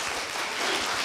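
Audience applause at a Korea University middle school speaking contest, a steady burst of clapping from a crowd filling the hall, sustained and even throughout.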